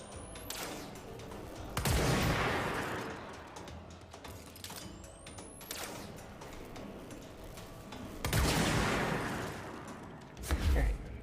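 Enemy gunfire in the video game Control: sharp bursts of shots crack out at intervals against a busy, noisy game backdrop, the loudest near the end.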